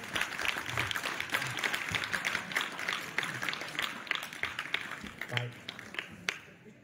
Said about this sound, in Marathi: दोन्ही या खेळाडूंसाठी जरा टाळ्या वाजवा जोरदार.